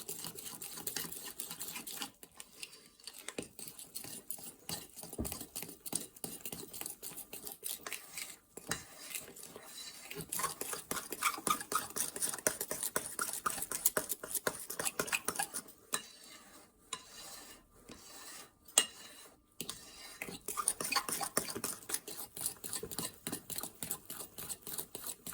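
A utensil stirs keto pancake batter made with psyllium in a bowl, a continuous scraping and clinking rhythm of spoon against the bowl, close and fairly quiet, with no talking.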